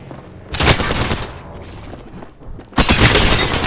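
Gunfire in the battle royale game Apex Legends, two loud bursts of rapid automatic shots close up, one short and one longer, separated by a quieter gap with faint clicks.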